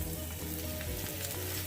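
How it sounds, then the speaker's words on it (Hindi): Chopped onions fry in hot oil in a pan, a steady close sizzle with faint crackles and no talking. "जैसे ही हमारा ऑयल गर्म होता है तो हम इसमें प्याज फ्राई करते हैं"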